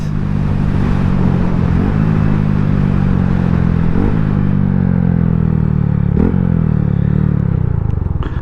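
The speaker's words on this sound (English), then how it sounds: "Love that downshifting sound" A 2025 Honda Grom with a Zoom Loop full exhaust burbles and rasps as the rider downshifts several times, each gear change marked by a brief revving blip, loud and close.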